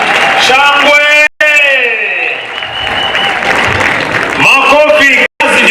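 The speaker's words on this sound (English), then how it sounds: "Let's applaud our own." Audience applause at a university graduation ceremony in Bungoma, a dense wash of clapping from a large crowd that swells and holds, with an announcer's amplified voice talking over it at the start and end.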